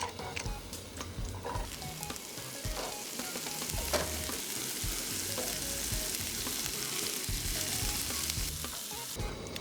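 Food spooned into a pan of hot, shimmering oil fries with a continuous soft crackling sizzle, fairly quiet and even, with small pops and no voices.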